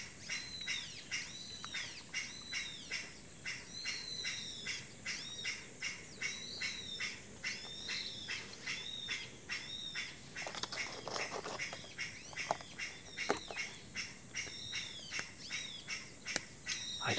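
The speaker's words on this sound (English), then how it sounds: "It's a bird of some kind, you know?" Outdoors, an unseen bird keeps calling with short squawky notes in a steady, repeating pattern, faint and somewhat distant, with a few soft knocks partway through.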